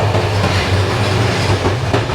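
An old Bulgarian passenger train, about fifty years old, runs on the rails near the Turkish border, a loud steady rumble with rhythmic clatter from the wheels, heard from inside the carriage with no talking.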